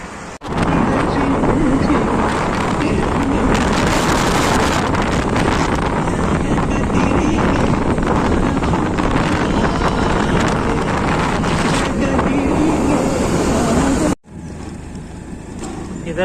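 A two-wheeler scooter rides along a road toward a temple, a continuous roar of rushing wind and engine drone over the whole ride, dropping to a quieter hum near the end.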